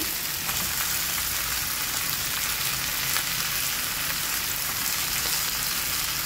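Potatoes sizzling in a pan for Japanese pork curry, a steady, dense crackle of frying that stays even and close throughout, with no voices.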